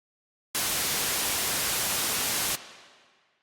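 Steady broadband white noise bursts in loud and unbroken for about two seconds, then cuts off into a short fading tail, with no voices over it.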